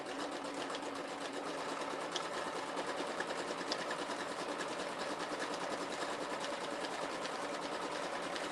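Sewing machine running a zigzag stitch for freehand fabric appliqué embroidery, a steady continuous motor whir with fast needle chatter throughout, fairly faint.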